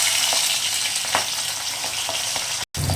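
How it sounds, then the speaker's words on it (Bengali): Pabda fish sizzle steadily in hot oil in a kadai, a dense crackling hiss with occasional sharper pops and a brief dropout near the end. "আমার কড়ায় তেল একদম গরম হয়ে এসছে এরপর আমি এক এক করে মাছগুলোকে দেবো"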